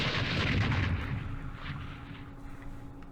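Mortar fire in the Vietnam War strategy game Campaign Series Vietnam, set at Khe Sanh Village in 1968: dull, rumbling blasts that swell early and fade into a low lingering roar, with no talking.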